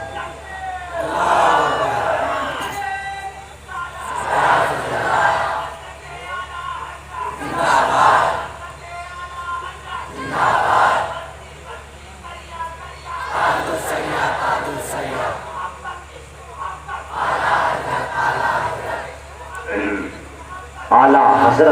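Children and a crowd at a religious gathering chant slogans in repeated loud call-and-response bursts, a leading voice alternating with the massed group roughly every few seconds.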